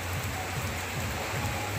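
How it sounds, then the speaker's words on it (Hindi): Light rain falling steadily outside a Shiva temple, a continuous soft patter and hiss with a low rumble beneath, no talking. "अभी थोड़ा बारिश हो रहा है, देखिए बारिश थोड़ा हो रहा है"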